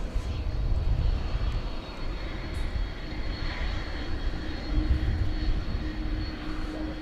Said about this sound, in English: Here comes the MD-11.